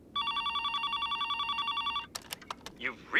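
A telephone rings with a rapid trilling bell for about two seconds, followed by clicks and a voice starting to speak.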